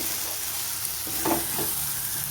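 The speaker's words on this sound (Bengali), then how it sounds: "আমি খুব ভালোভাবে কষিয়ে নেব, এখনও কষানো হয়নি সম্পূর্ণভাবে।" Banana flower curry sizzles steadily in a pan while being sautéed, with a couple of brief stirring scrapes in the middle, close and even, with no talking.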